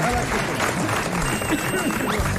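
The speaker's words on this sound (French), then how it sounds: "qui salue la foule en délire" A studio audience applauds and cheers for a contestant on a French radio quiz show, steady clapping and crowd noise running under a host's voice throughout.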